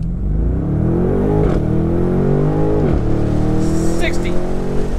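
A 2019 BMW M850i xDrive convertible in sport mode pulls away from a dead stop, its exhaust note rising loud and close through several upshifts.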